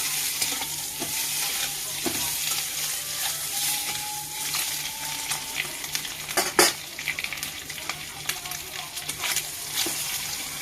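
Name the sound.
eggs frying in a pan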